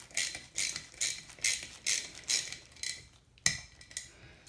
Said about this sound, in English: grab my ratchet, snug it